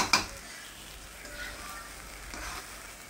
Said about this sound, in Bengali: এই যে দেখো আমি হচ্ছে ভালো মতো করে ভেজে নিচ্ছি,